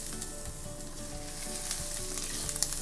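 Crushed ginger and garlic hit hot oil alongside browned coconut pieces, giving a steady close sizzle and crackle with a few sharper pops near the end; no voices.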